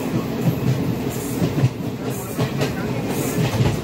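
A train running steadily on its tracks, with continuous rumble and faint rhythmic wheel clatter throughout, loud and close, heard from inside a carriage with no talk.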